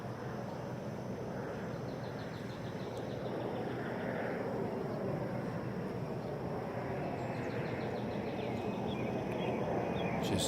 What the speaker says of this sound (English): Ken, I don't know if you can hear that airplane above